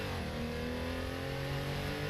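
A Porsche racing car engine in Assetto Corsa drones at high revs, its pitch climbing gradually as it accelerates, loud and continuous with no voices.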